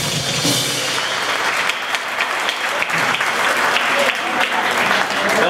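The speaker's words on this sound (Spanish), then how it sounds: "Así que quiero pedir un fuerte aplauso por tantos años de laburo." Loud crowd applause at a metal band concert, a thick sustained roar of clapping and cheering from the audience between songs.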